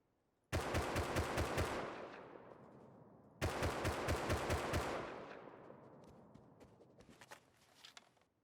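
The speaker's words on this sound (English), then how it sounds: "Crouching reduces some guns' recoil." Two long bursts of rapid automatic gunfire in the survival game Rust, fired from a crouch, each a steady fast rattle of shots with a ringing tail, followed by a few scattered softer clicks and thuds.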